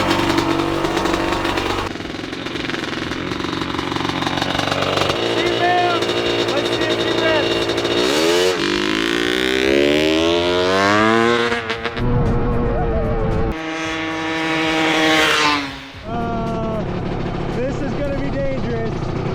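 A restored abandoned dirt bike starts on the first kick and runs loud and close, its two-stroke-like engine revving up and down in repeated rising whines and crackling bursts, with a voice speaking over it.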